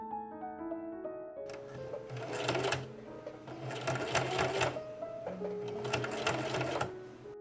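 Domestic sewing machine running machine-finish stitching on an 1830s corded corset seam, in several bursts of rapid mechanical whirring with brief pauses between, fairly close and steady, with faint background tones and no talk.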